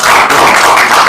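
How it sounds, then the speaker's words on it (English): A crowd at a research results event in Nairobi claps together, a brief, loud, dense wash of applause with no pauses. "We clap for him."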